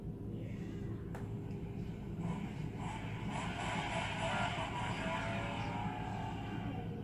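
A Flysky IT4S radio transmitter powers on with a steady, rising engine-like whir, a continuous muscle-car-like hum with a faint click near the start.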